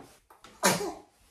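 A single close sneeze bursts out sharply after a couple of soft breaths, then trails off quickly.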